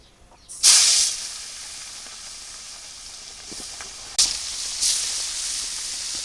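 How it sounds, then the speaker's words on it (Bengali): Marinated fish with turmeric and salt slides into hot oil, setting off a sudden loud hissing sizzle that slowly settles, then two more sharp bursts of spitting as further pieces go in; no talking. "তেল গরম হয়ে গেছে আমি মাছ দিয়ে দিই তেলে"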